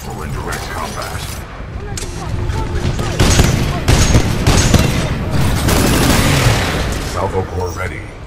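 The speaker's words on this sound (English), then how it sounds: "we can lock onto enemies and target them with tracking rockets" Tracking rockets fired in a Titanfall 2 salvo, a busy clatter of launches, mechanical clicks and booming impacts running throughout, with a voice speaking over parts of it.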